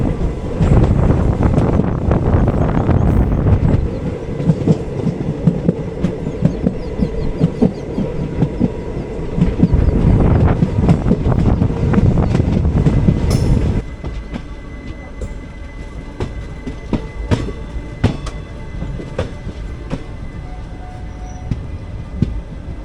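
The 06061 Summer Special Express rolls into Tenkasi station, a loud wind-buffeted rumble of wheels and carriages that drops to a quieter rattle with scattered clanks as it slows at the platform.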